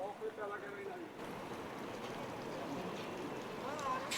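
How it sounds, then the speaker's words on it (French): Water from a beach foot-rinse tap or shower runs in a steady, moderately loud wash that continues throughout, set against an outdoor seaside backdrop. "Et la flotte qui coule là, c'est le robinet qui est en haut pour te rincer les pieds ou la douche"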